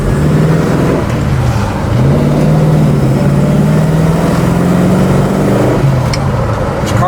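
Engine of a 1967 Mercury Cougar XR7 running while driving: a steady, close, low drone that rises and falls as the car shifts and accelerates, heard alone with no talking.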